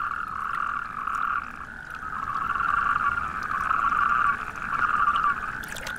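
Natterjack toads calling in an artificial wetland habitat, a loud continuous rattling trill that holds steady for several seconds, with faint overlapping calls and no talk.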